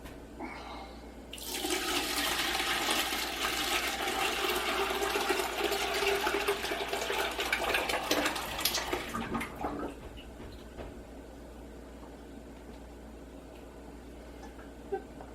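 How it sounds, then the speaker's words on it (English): Liquid mead mixture from washed honeycomb, with wax, pours through cheesecloth and a colander into a stock pot, a loud steady rush of running liquid for about eight seconds that drops to a faint trickle. "filtering this bushy stuff, all the wax, through cheesecloth into a second colander, second stock pot"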